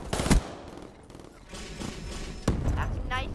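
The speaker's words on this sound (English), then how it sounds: "I shot him twice" Gunfire in Call of Duty Black Ops III, a couple of sharp shots standing out over a busy game mix, with a player talking throughout.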